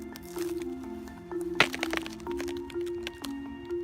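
Ice on a frozen lake gives off sharp cracks and groaning creaks, with one loud snap in the middle and fainter pops around it, close and outdoors.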